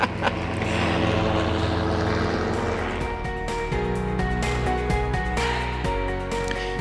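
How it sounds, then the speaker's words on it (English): A steady, loud helicopter engine drone with rotor-like pulsing fills the whole stretch as it passes fairly near overhead. "We didn't get a bird, but we got a helicopter."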